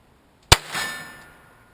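A suppressed Ruger 22/45 pistol fires one shot of CCI .22 ammunition: a single sharp, close crack with a brief metallic clang, followed by a short fading ring.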